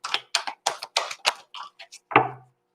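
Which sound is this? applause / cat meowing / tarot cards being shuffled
tarot cards being shuffled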